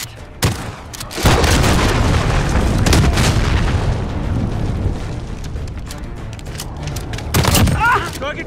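A cruise missile strike in Call of Duty Modern Warfare multiplayer: a sharp blast, then a loud, sustained rumbling barrage of explosions and gunfire that swells again near the end, with a game announcer voice heard briefly.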